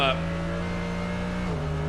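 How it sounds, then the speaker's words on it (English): A DTM race car at the Norisring powers through the Schöller S chicane, its engine note steady and then dropping as it shifts, heard close under commentary. "Through the Scholler S's we go now, holding on to this wonderful car of"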